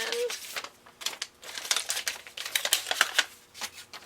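A small paper envelope from a children's nail polish strip subscription is opened, giving a string of close, crisp crinkles and papery rustles in irregular bursts, with no speech.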